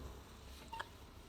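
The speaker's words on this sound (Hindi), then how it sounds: "रेहान को फ़ोन कर देता है।" A mobile phone gives a single short dialing beep, faint and brief against a quiet background.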